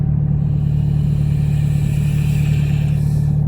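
Audi S3 8V Black Edition launching hard, its exhaust a loud, steady droning roar with strong low rumble held throughout under full acceleration, close to the car.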